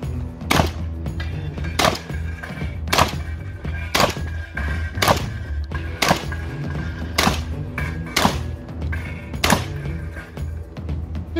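Ten sharp, loud blasts from a Breda semi-automatic shotgun fired at a steady, fairly quick pace, each a booming crack with a short decay, no talking.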